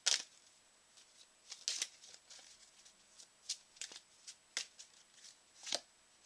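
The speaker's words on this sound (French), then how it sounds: "il faut que je pioche une carte." Cards being handled while drawing during a game of The 7th Continent: a series of crisp, close paper flicks and slides, irregular and fairly quiet, with short gaps between them and no voices.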